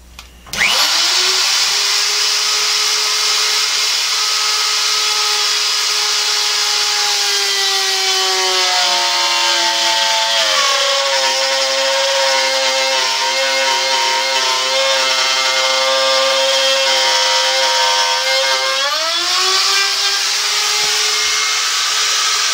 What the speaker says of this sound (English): I'll just take another deeper cut, see if that's enough for the cable.